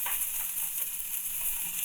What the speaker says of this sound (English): listen to that sweet baby sizzle